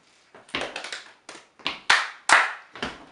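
Close, crisp hand claps in a rhythmic pattern, a quick run of several claps followed by spaced pairs of sharper, louder claps, each with a short ringing decay in a quiet room.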